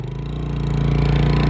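A Lexmoto Vixen 125cc motorbike engine running just after a cold start, a steady close puttering hum with a quick regular pulse, slightly rising in level.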